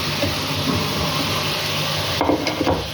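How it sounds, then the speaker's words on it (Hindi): Green chillies tossed into frying chicken biryani masala, a steady, close hiss and sizzle of oil with a few light stirring knocks near the end, no talking. "तो जी दोस्तों यहाँ पर मसाला तैयार हो रहा है, तो बिस्मिल्लाह करके क्या करेंगे, जो हरी मिर्चें हैं 4 से 5 अदद ये डाल देंगे"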